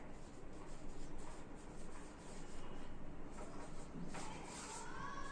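A pen scratches steadily across paper as someone writes out a fraction during a math lesson, a continuous close scribbling texture with small pauses between strokes.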